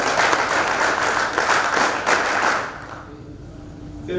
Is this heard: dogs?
no